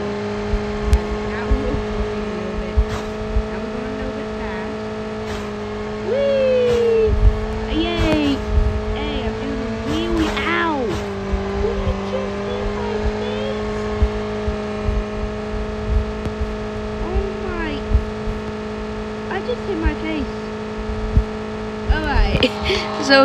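A car engine drones steadily in the video game Call of Duty Mobile, with revving swells, tire squeals and scattered impacts over a constant hum, and a voice calls out briefly.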